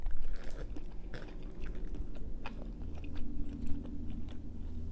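Mussels from a seafood boil are eaten up close, with wet chewing, soft smacking and small crunchy bites in an irregular rhythm that continues throughout.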